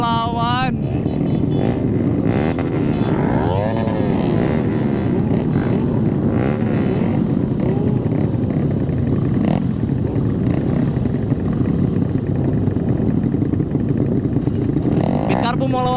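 A Honda Beat carbureted scooter engine revs hard, rising and falling in pitch with repeated throttle bursts over a sustained loud roar, close by, as other sport motorcycles are also present and voices speak faintly.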